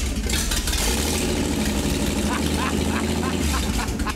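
A hopped-up straight-six in a 1949 Chevy 3100 truck runs with a split manifold and no exhaust, giving a loud, close, steady rumbling idle with a throaty low pulse.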